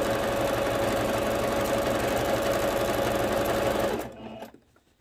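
Sewing machine running steadily as it stitches the elastic waistband of a half-circle flared skirt, a loud continuous mechanical whir that stops abruptly near the end and fades out.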